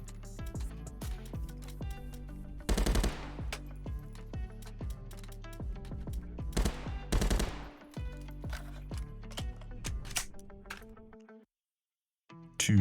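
Gunfire from the Contractors video game, with rapid bursts of close automatic shots and a few heavier crackling volleys firing steadily in a dense rhythm before a short silence near the end.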